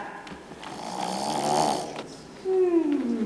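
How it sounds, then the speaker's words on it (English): An actor playing the wolf in a school stage production of Into the Woods snores loudly, a long rasping inhale followed by a rising, whistling exhale, heard close and alone. "My, that grandmother has a mighty snore."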